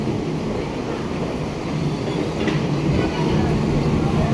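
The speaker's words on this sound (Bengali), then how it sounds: "ট্রেন লাইন দিয়ে ট্রাক আসতেছে" A railway truck used for hauling track sleepers rolls along the rail line at Poradah rail station, a loud, continuous rumble with rhythmic clickety-clack of wheels over the rails throughout.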